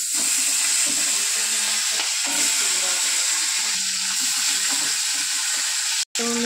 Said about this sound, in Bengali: কই মাছটা ভাজার জন্য কড়াতে তেল দিয়ে নিলাম